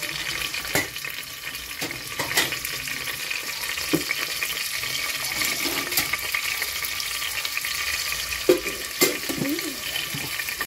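Thinly sliced onions fry in a pan for mutton curry, giving off a steady hissing sizzle with occasional light clicks and scrapes from stirring.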